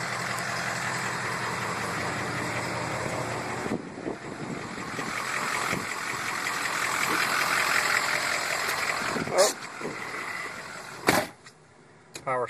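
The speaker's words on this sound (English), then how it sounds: "And in the back, there's the exhaust." Ford F350 pickup truck idling from around the exhaust, a steady low rumble that swells slightly in the middle, with a few sharp clicks and knocks near the end.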